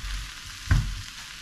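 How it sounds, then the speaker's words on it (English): A quick stir of a frying vegan chickpea and lentil curry in a pan, heard as one short scrape and clatter that breaks briefly over a steady low sizzle. "give that a quick stir"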